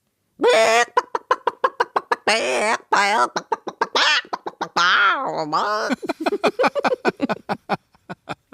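A person imitates a chicken, a long run of rapid clucking bursts with a few drawn-out squawks, close and loud.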